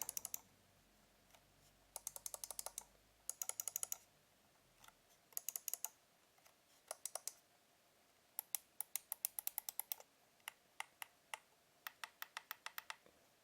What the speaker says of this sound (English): let's go ahead and press the buttons so you have an idea of the response and the sound they make